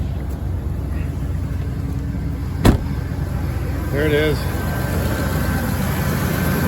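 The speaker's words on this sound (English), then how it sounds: "Now I've got the engine running." A large V8 truck engine idles steadily with a low, continuous rumble throughout, a brief sharp click partway through, and someone speaks a few words over it.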